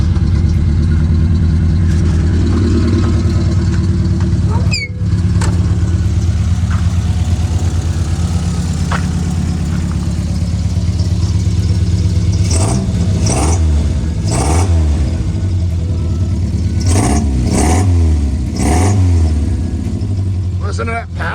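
A Volvo Amazon wagon fitted with a new exhaust and resonator sits idling with a deep, steady rumble. It then revs sharply several times in bursts later on, loud and close.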